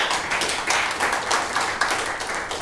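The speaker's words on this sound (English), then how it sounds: "So everyone can round of applause to Neil." A small audience claps for a speaker at a metaverse browser live stream, a brisk patter of hands with audible individual claps, fairly close and steady throughout.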